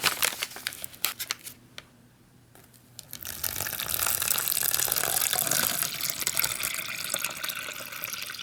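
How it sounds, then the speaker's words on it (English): Water is poured into an MRE drink pouch, the contour pouch of a 2014 Cold Weather seafood chowder meal, with crinkling plastic at first, then a steady splashing pour running alone for several seconds. "It's going to take 12 ounces of water."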